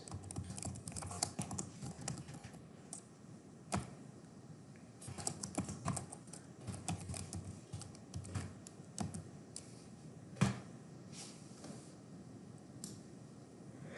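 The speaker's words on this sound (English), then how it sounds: "So I'm going to type in cumulative translation adjustment." Typing on a computer keyboard, steady clusters of close, quiet key clicks in bursts with short pauses, a few sharper taps standing out, no talking.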